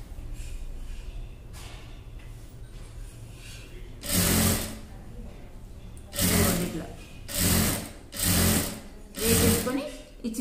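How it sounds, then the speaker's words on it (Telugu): Sewing machine stitching a double-folded hem on a small child's skirt, running in four loud bursts of roughly a second each, with quieter handling and room noise between runs. "ఇది కూడా డబుల్ ఫోల్డింగ్ చేసి స్టిచ్చింగ్ చేసుకోవచ్చు"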